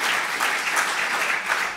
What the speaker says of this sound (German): Erstmal deinen Applaus, weil das so großartig ist.